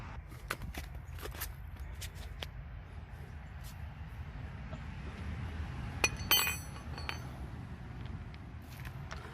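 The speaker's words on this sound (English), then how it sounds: "I'll go ahead and take off each lug nut individually." Lug nuts coming off a car wheel one at a time during a spare tire change, with scattered metallic clinks and clicks, one clustered burst near the middle, over a low outdoor rumble.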